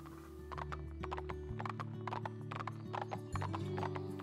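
Rapid clip-clop of hooves trotting steadily over a low background hum, with a short whinny-like tone mixed in; synthetic and close game audio from Barbie Pferdeabenteuer 2.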